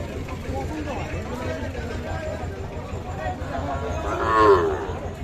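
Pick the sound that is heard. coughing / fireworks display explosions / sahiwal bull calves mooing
sahiwal bull calves mooing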